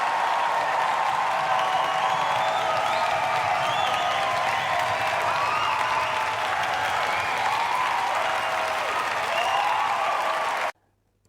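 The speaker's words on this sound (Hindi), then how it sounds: "हर्ष का गाना खत्म होते ही सबने खूब तालियां बजाई।" An audience at a school stage performance breaks into loud, sustained applause once a song ends, dense clapping with a few cheers that carries on steadily for about ten seconds before cutting off abruptly.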